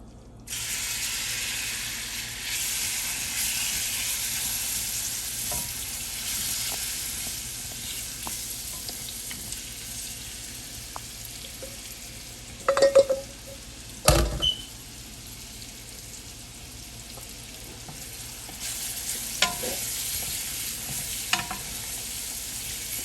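Seasoned shrimp sauté in a pan for a coconut curry pasta, a continuous mid-level sizzle with a few sharp clatters and scrapes around the middle and toward the end, no speech.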